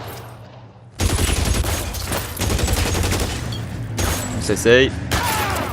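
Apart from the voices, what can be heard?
machine gun fire in the video game L.A. Noire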